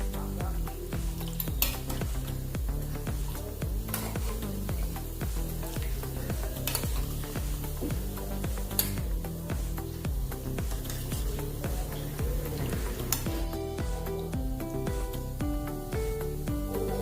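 Maida biscuits deep-frying in a pan of hot oil give a steady, continuous sizzle with occasional clinks and stirring of utensils against the pan.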